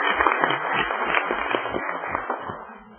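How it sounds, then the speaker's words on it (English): Audience applause for a Girl Scout troop at a regular city council meeting, a dense wash of many hands clapping steadily for about three seconds and tapering slightly at the end. "if we could give them another round of applause"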